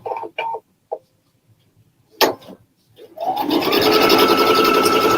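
A Pfaff sewing machine stitches along the edge of foam, starting after a few short knocks and clicks and settling into a steady, close mechanical whir for the last couple of seconds.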